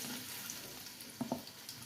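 Onions frying in hot oil in a pan for green chicken curry, a faint continuous sizzle with a couple of soft clinks, brief and quiet.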